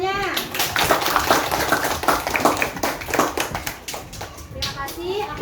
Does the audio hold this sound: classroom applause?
yes